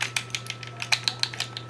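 A Starfield Constellation edition Xbox Series controller's D-pad clicks repeatedly up close, about a dozen sharp, light plastic taps in an uneven quick rhythm over a faint steady hum.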